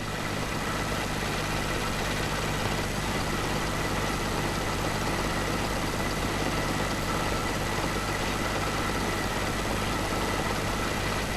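A conventional carburetted car engine idling during a tune-up, a loud, steady mechanical drone with an even low throb that holds unchanged throughout, with no voices.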